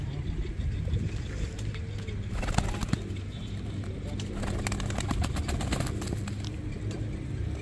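Soft bird cooing and chirps come through a steady low outdoor rumble, with faint voices in the background.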